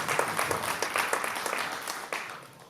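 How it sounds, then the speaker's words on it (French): A conference hall crowd in Nouméa applauds warmly, a thick wash of clapping from many people that holds steady and then begins to thin and fade toward the end. "La salle s'applaudit."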